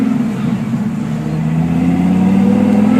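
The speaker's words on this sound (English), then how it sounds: "We're sitting here just idling in traffic right now" A Dodge Ram SRT-10 pickup's hot V10 engine idles in town traffic, a loud, steady low drone with a slight rise in pitch toward the end and no voices.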